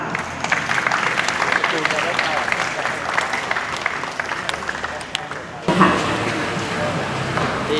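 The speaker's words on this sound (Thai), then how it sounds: "ขอเสียงปรบมือให้กับรองแชมป์ด้วยนะคะ" Crowd at a Thai sporting event applauding the runner-up: sustained clapping from a sizable audience with a voice over it, lasting the whole stretch and briefly swelling near the end.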